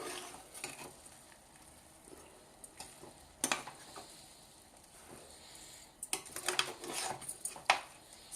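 A spoon scrapes and clinks against a pot while chicken curry with spices is stirred, with soft gentle sizzling underneath and a few sharper metallic knocks in quick clusters.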